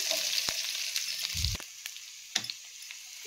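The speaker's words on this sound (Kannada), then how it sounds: "ಈರುಳ್ಳಿಯನ್ನು ಹಾಕ್ಕೊಳ್ತಾ ಇದ್ದೀನಿ." Chopped onions frying in hot oil in a pan over a medium flame for a mixed chicken pepper dry, a steady close hiss broken by a few sharp clatters and brief low thumps.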